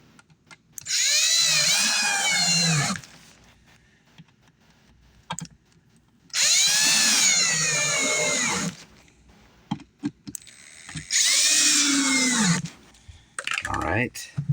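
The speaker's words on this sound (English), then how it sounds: "the one-handed drill, man." A one-handed cordless drill whines in three separate bursts of about two to three seconds each, pitch rising and falling, while a subwoofer box is built, with quiet pauses and a short final burst.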